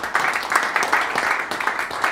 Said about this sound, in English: So let's give a round of applause to Nikita.